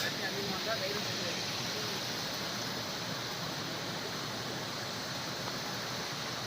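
Small waterfall in the Pothigai hills with only a thin flow of water, a steady soft broadband rush that stays even and unbroken throughout, moderately faint and heard on its own without talk.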